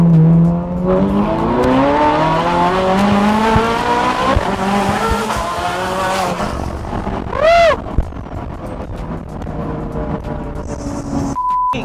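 A Ferrari F430 Scuderia accelerates hard, its engine note climbing through rising gears with brief shift dips, loud and close, then a sharp rev blip and fading as it settles.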